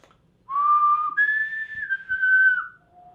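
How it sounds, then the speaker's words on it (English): A person whistles a short tune alone in a quiet room. The clear, sustained tones step upward, hold, then slide down, ending on one lower note. "I can't whistle that low."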